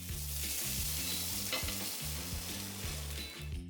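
Broccoli florets stir-frying and charring in a hot pan for Mongolian beef noodles give a steady, loud sizzle throughout, with a melodic tonal backing running underneath.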